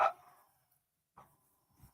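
A small dog gives a single sharp bark, followed after a pause by a softer, fainter yip; quiet in between.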